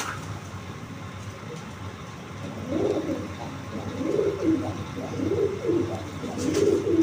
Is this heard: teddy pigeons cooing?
yes